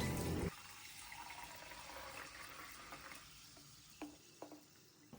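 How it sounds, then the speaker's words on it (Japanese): Freshly carbonated water from a Drinkmate soda maker fizzes steadily in a quiet kitchen, a soft continuous hiss after a brief opening sound, with a few small clicks near the end and no talk. "出来たての炭酸水の音をお楽しみください。"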